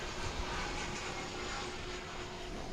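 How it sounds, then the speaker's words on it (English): A steady, distant roar of an American Eagle airliner from Lubbock arriving at Dallas/Fort Worth International Airport, passing overhead, a constant broadband rumble with a faint hum and no voices. "Got an American Eagle flight coming in from Lubbock. You may hear it in the background."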